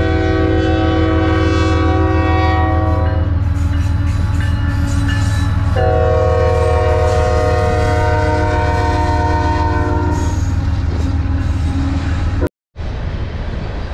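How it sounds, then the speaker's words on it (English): A train rumbles past up close and steady in Vegreville, Alberta, with a horn sounding in long held tones over the continuous roar, before a sudden brief cut near the end. "Appropriate with the train going by behind me is the caboose."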